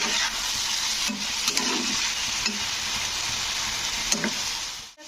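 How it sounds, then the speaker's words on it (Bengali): Tomato and pointed gourd (potol) sauté in a pan with a steady, dense sizzle and occasional scraping stirs, continuing without a break until a sudden cutoff at the end. "টমেটোটাকে দিয়ে একটু পটলের সঙ্গে কষে নিতে হবে"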